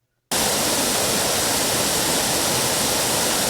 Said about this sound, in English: our final reward came in form of thunder, the thunder of Kuru waterfall.